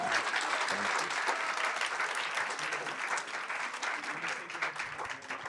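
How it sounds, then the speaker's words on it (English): A room full of people applauds at a data conference opening session, steady massed clapping heard from a moderate distance, fairly soft and even throughout with no voices standing out. "Applause."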